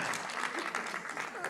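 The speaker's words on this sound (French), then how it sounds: "je vous remercie d'applaudir" Audience applause at a French conference talk, a dense patter of clapping from a seated crowd, brief and fairly loud throughout.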